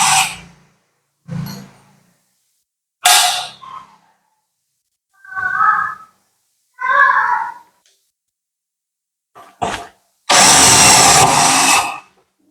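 A Beckum EB2 12V cordless drill drives roofing screws. Several short whirring bursts are separated by silence, followed by one loud, sustained run near the end.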